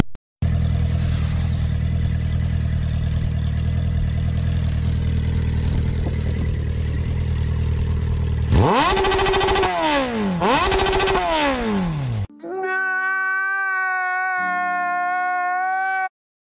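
A steady engine idles, then revs sharply twice in rising and falling sweeps, like a motorcycle throttling up, followed by a steady higher-pitched drone.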